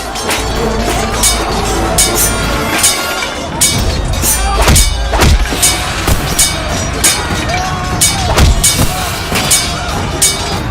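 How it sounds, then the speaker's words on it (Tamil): Maces striking each other in a Mahabharata battle: repeated heavy clanging impacts with deep thuds, arriving irregularly every second or so over a thick background of battle noise. "கதையோடு கதை தாக்கும் ஓசை."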